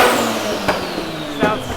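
A Mazda RX7 rotary engine revs loudly and close, its pitch rising and falling in a couple of quick throttle blips over a steady idle.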